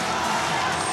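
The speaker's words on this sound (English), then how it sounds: "Listen to this crowd! This is incredible!" A wrestling crowd at Yokohama Budokan roars steadily throughout a pro wrestling tournament match, a dense sustained wall of cheering that is loud and close, with no clear talk over it.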